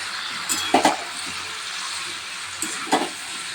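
A paste of ground mustard, ginger, cumin and green chili fries in hot oil for a Bengali chorchori, with a steady soft sizzle and a few clinks of stirring, close up.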